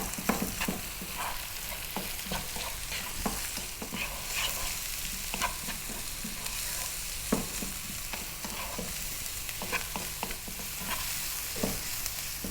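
Rinsed lentils with salt and pepper are stirred in a hot pan, giving a soft, steady sizzle marked by repeated scraping strokes of a spoon at an uneven rhythm, with no voices.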